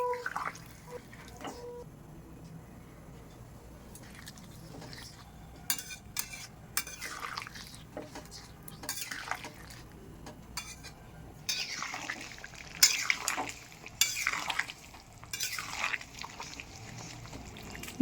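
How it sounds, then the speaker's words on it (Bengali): Raw pumpkin curry frying in a pan gets hot water poured in, then is stirred, with a soft pour and steady simmer under a spoon clinking and scraping against the pot, growing busier toward the end. "এবার পরিমাণ মতো গরম জল দিয়ে দেব।"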